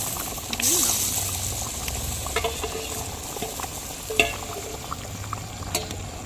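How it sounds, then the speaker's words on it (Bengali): Eggs go into a simmering potato-and-egg curry in a home kitchen, giving soft bubbling and stirring sounds with a few clinks and splashes over several seconds, while a voice talks faintly over it. "এই যে মা এখন ডিমটা দিয়ে দিচ্ছে"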